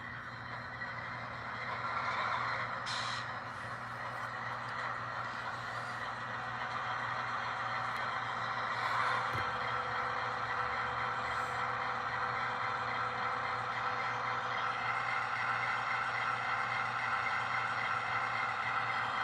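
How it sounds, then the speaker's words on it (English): An MTH model of a Norfolk Southern D-9 diesel locomotive, number 9250, plays its startup sound: a steady, moderate diesel drone with a faint hiss, continuous throughout. "Button 3 is the startup."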